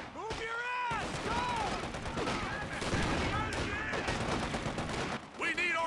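Sustained gunfire and explosions rage through a battle in Company of Heroes 2, dense and loud for several seconds, with shouted voices cutting in over the barrage.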